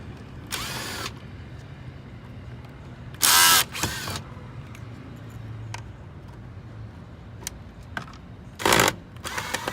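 Phillips screwdriver backing out the four screws that hold a broken Lexus IS side mirror housing together, heard as a few short, close ratcheting and scraping bursts between quiet pauses.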